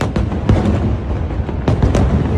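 Singapore National Day fireworks burst loudly close by, a steady roar of crackling and booming with several sharp explosive pops over a dense rumbling wash.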